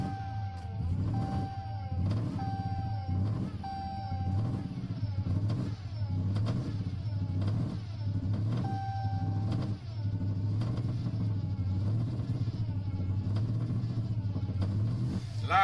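A Hellcat car with a supercharger swap fires up and revs repeatedly through a loud exhaust, deep engine rumble rising and falling in steady bursts, close and continuous with no talk.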